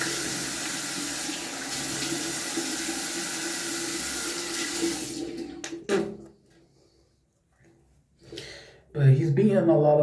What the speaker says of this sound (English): Gotta wash my face first